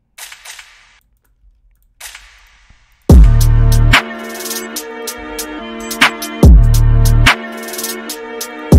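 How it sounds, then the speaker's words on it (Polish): A sharp pistol-like gunshot cracks out amid a beat, with heavy sustained bass hits and clicking percussion around it. "Wrzucimy sobie jeszcze jakiś dźwięk tutaj pistoletu."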